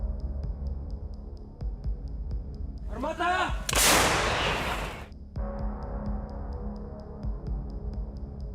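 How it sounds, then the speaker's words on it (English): A single heavy blast from destroyed tanks and armored vehicles exploding on a battlefield, a sharp rushing burst of about two seconds over a constant low hum with faint regular ticking. "In one place on the field there are 2 destroyed and damaged tanks and at least 3 armored fighting vehicles of the invaders, which periodically explode."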